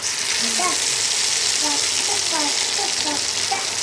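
Chicken 65 pieces coated in masala fry in hot oil with a loud, steady sizzle and crackle, close and constant throughout, with faint voices in the background.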